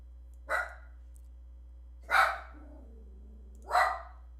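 A dog barks from a couch indoors: three sharp, separate barks spaced over a few seconds, close and clear against a quiet room with a faint hum, a low whine trailing after the second bark.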